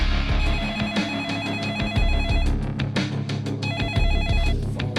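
A telephone bell rings in two repeated bursts, loud and alone over a steady low background, in a true-crime drama about a fake investment scheme.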